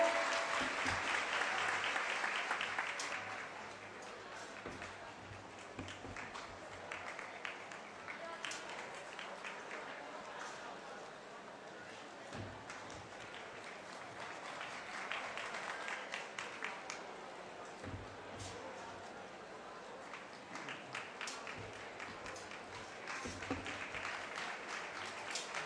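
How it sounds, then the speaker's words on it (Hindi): At a party foundation day gathering, a large crowd breaks into loud applause that peaks at the start, eases into a long steady clapping, then swells again in waves, heard from somewhat far off. "इसलिए इन बेटे बेटियों के लिए जोरदार तालियां बजाएं।"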